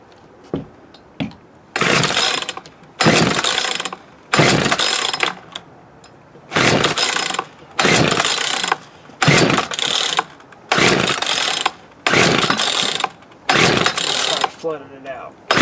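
An old Poulan Wood Shark chainsaw with a flooded engine is pull-started over and over: about nine loud, rough bursts of cranking, each lasting roughly a second, separated by short quiet gaps, and the engine never catches.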